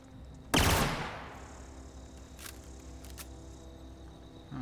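A rapid-fire weapon in the video game The Outer Worlds lets off one loud, sharp burst of gunfire that decays into a lingering tail, followed by a few faint clicks.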